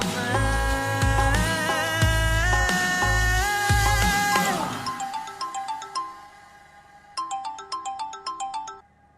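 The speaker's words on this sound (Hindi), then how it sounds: "फोन बज रहा है तुम्हारा?" A mobile phone ringtone plays a bright, repeating electronic melody, first over a swelling background score with low hits, then alone and quieter in short bursts.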